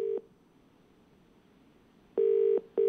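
A phone call's ringback tone sounds while dialing out: a clear steady electronic tone beeps briefly, pauses for about two seconds, then repeats in a longer burst followed by another start, with no voices.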